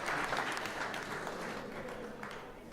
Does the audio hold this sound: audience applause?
yes